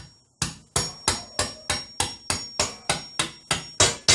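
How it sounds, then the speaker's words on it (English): A light hammer taps a 7mm socket down onto a fitting: eleven crisp, evenly spaced metallic knocks, about three per second, close and clear with no talk. "a couple of light taps"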